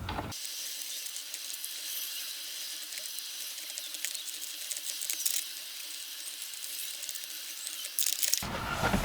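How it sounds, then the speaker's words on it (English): A steering wheel quick release is screwed onto a short hub on an E36 M3, giving a steady, close, rapid ratcheting whir that runs for about eight seconds before it stops. "I'm gonna screw this onto the existing short hub that I had to mount my NRG on"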